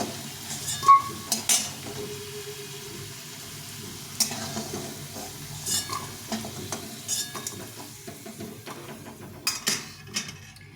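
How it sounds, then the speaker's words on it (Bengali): Potato pieces fry in hot oil for a vegetarian curry, with a soft steady sizzle under repeated sharp scrapes and knocks of a spatula stirring the pan close by. "আলুটা ভাজা হয়ে গেছে আলুটাও ভেজে নেবো"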